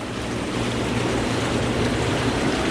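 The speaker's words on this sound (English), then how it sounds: "and the bubbles stop" Bubble jets of an Intex inflatable hot tub run as a steady, loud, broadband rushing and fizzing wash that holds even for the whole stretch, with no talking.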